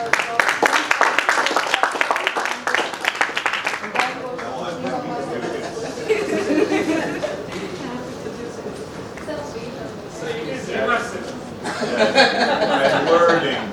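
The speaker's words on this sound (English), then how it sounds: "So have a huge round of applause because" An audience at an entrepreneurship workshop breaks into a burst of clapping, loud and dense at first, then thins into chatter and light laughter before a second swell of applause.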